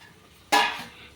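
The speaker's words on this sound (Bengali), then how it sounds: "ধনে পাতা দিয়ে বেশ করে নেড়ে চেড়ে মিশে নিলুম" Metal spoon stirring ivy gourd (kundri) with fresh coriander leaves in a pan, a single sharp scrape-and-clatter burst that fades quickly, close and alone.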